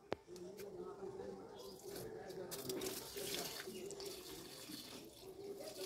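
Water splashes and trickles steadily onto a garden plant, poured from a container by a small child, with a steady hum and voices underneath throughout.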